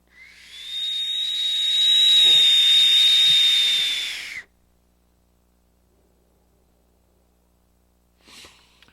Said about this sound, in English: this one here likes to whistle a lot just because it's a big mod